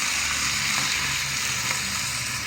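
Vegetables and mackerel fry in a pan, giving a dense, even sizzle that stays loud and steady throughout with no voices.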